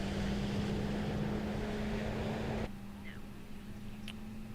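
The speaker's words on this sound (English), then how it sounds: "Alright, we got a good engine start." British Airways jet engine spooling up on the ground at London Heathrow, a steady low roar with a sustained hum that drops abruptly to a quieter rumble partway through, continuing under faint cabin noise.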